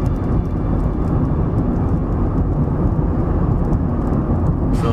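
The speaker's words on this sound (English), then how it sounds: "So tyre noise is the main noise that's coming from this car." Tyre roar from a Perodua Myvi 1.5 CVT driving on the road, a steady, dense rumble heard from inside the cabin, loud and continuous with no talk.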